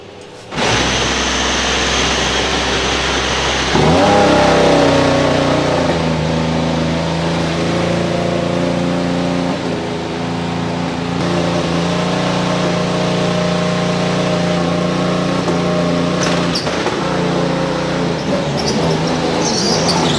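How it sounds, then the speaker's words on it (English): A 2021 Formula 1 car leaving the pits during pre-season testing gives a high engine whine that shifts pitch and builds into a sustained, fairly loud droning tone, with no talking. "let's actually see Yuki Tsunoda here coming out of the pits"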